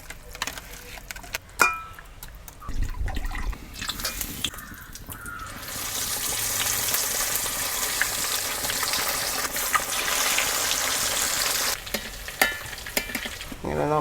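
Snakehead fish frying in oil, a steady hiss and sizzle that grows louder midway, with clattering stirs and crows cawing faintly outdoors.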